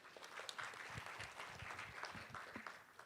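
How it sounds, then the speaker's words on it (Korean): An audience at a public diplomacy forum session applauds, a very faint, distant wash of steady clapping with a low voice murmuring beneath it. "박수로 부탁드리겠습니다"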